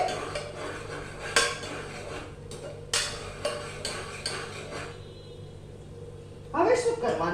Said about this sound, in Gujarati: એકવાર આપણે સ્ટર કરી દઈએ